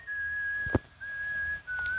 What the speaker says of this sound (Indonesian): Oh my god, ada suara bersiul.